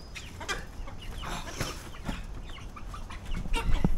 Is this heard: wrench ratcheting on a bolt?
no